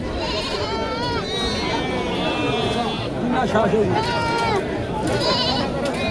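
Goats bleat repeatedly at a busy village livestock market in Deohata, Tangail, their calls rising over steady crowd chatter and nearby voices.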